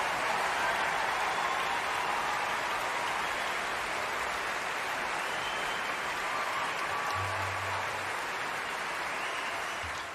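A concert audience gives loud, continuous applause after a violin performance, a thick wash of clapping that holds steady for the whole stretch.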